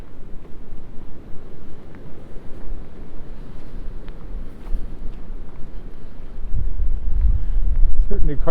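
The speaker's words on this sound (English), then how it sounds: "Certainly quite a bit of wind right here, but it's not too horrible" Steady wind buffets a microphone on a January walk beside Wascana Lake in Regina, a broad low rumble running throughout and swelling louder near the end, with no talk.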